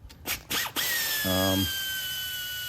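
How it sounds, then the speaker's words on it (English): Pneumatic air ratchet loosening nuts while servicing a Ferris FB 3000 mower, with a few sharp clacks followed by a brief buzzing run and a lingering high hiss of air. "I have some pneumatic air ratchets. They're awesome and they work really fast."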